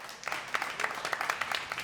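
Audience at a Boston poetry event clapping and snapping on cue, a fairly faint, loose patter of hands with sharp irregular claps.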